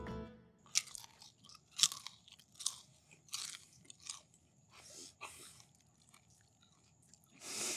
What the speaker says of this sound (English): The idea with the double fried fries is for them to cook inside first and then develop the crunchiness all the way in the second cook.